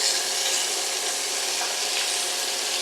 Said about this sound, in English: Put in 1 onion, 1 chili pepper, 2 stalks of celery, finely diced.